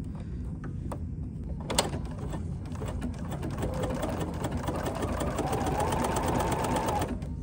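A sewing machine stitches fabric with a steady, close mechanical whir that builds slightly, preceded by a few soft clicks and handling sounds.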